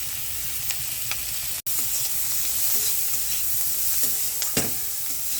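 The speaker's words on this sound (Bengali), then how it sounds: "হালকা এরকম লাল লাল হলেই দিয়ে দেবো পেঁয়াজ, লঙ্কা আর আদা" Onion, chili and ginger sizzle in a hot pan, a steady close frying hiss with a few stirring scrapes and one short break partway through, no voices over it.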